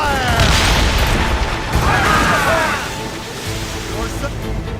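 Ship cannons boom in a naval battle in the video game Assassin's Creed Rogue, heavy blasts rolling over wind and sea noise while voices shout commands.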